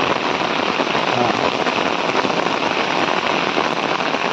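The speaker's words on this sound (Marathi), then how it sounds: "इथे पावसाने जोर धरला" Heavy rain pours down steadily, a dense, loud hiss of drops hitting surfaces without letup.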